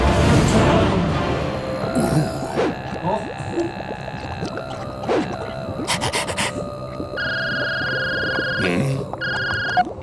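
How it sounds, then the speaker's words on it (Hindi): A phone rings with repeated electronic tone bursts in the second half, nearby and clear over a low background hum and faint rustling. "बापू का फोन आ गया"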